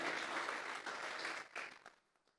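A church congregation applauds as an offering of praise to God, steady dense clapping that fills most of the moment before thinning out and fading near the end.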